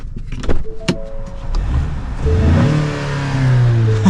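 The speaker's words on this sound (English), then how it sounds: "Let's start it up, walk you guys around it real quick" A 2025 Ford Maverick Lobo pickup's turbocharged four-cylinder engine cranks and catches, then settles into a steady idle with a brief rev, heard up close at Road America with no talking.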